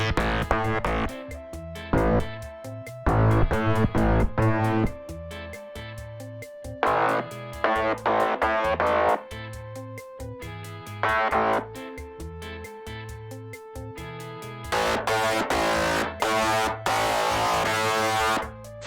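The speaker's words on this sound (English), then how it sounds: "For the first one, use some overdrive, removed the lows with EQ," Bass processed with overdrive and distortion, lows cut by EQ, in a heavy industrial-metal style soundtrack piece; gritty, saturated bass notes hit in loud rhythmic bursts with short gaps, alone without speech.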